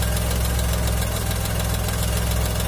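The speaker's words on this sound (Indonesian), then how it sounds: "maka radiator kembali nyala." An old car's engine idles steadily with a continuous low hum and a broad whirring wash over it, like a radiator fan running, with no pauses or talk.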